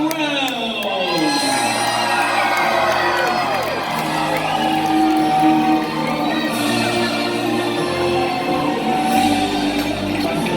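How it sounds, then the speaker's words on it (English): A large arena crowd at a Medieval Times jousting tournament in Atlanta, Georgia cheers and whoops for the knights, loud, sustained shouting with children's voices and brief rising yells through the whole stretch. "My lords, my ladies, raise a cheer for your knights of the realm."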